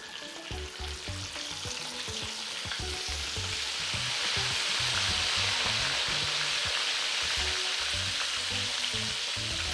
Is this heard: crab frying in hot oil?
yes